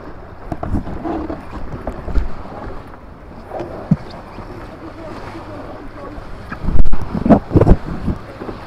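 Wind buffets the microphone in a constant rough rumble while sailing an RS Feva dinghy downwind, rising into heavy gusts near the end, with water noise underneath.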